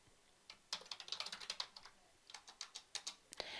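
Typing on a computer keyboard in two quick bursts of clicky keystrokes separated by a short pause, close and quiet.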